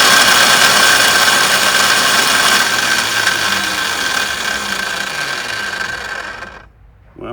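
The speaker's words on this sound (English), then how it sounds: "the starter works, but it doesn't sound like it's engaging" A snow blower's electric starter whines and spins steadily without catching, a loud continuous motorized drone that fades and cuts off near the end.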